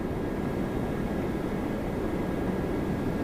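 A Korean Air Boeing 777 freighter on approach to Toronto Pearson, a continuous even jet engine rumble with a broad hiss and no voices.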